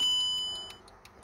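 A Mercedes W204 dashboard gives a bright electronic chime as the ignition switches on, a single clear tone fading out over about a second, followed by faint short beeps, close and without speech.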